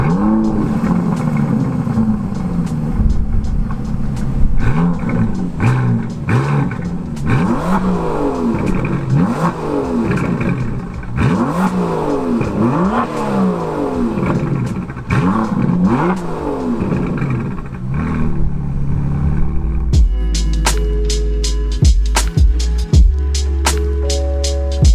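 A 2018 Aston Martin DB11 turbocharged V12 engine roars close by in city driving, revving up and down repeatedly through gear changes, then settles into a loud steady drone.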